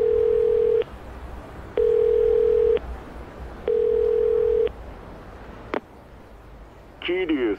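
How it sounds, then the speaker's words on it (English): Phone ringback tone in the video game Yakuza 0: three long, steady electronic tones with even pauses between them, followed by a click and a brief warbling chirp as the call connects. "Making a phone call."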